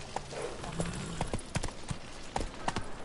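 Hooves of Roach, a horse in The Witcher 3: Wild Hunt, clip-clop in an irregular trotting rhythm, close and fairly loud, with no talk over them.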